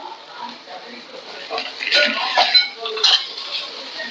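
Cumin and caraway seeds frying in a home kitchen pan, a soft crackling sizzle rising midway with a few clinks of a spoon against the pan, close and moderately loud, with someone talking over it.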